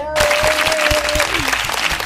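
A burst of enthusiastic clapping from a small group, loud and close, continuing steadily for a couple of seconds.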